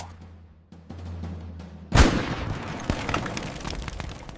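A single sharp gunshot in a stop-motion toy army battle set in the Spanish Civil War cracks out of near silence, followed by a rumbling, crackling burst that fades slowly.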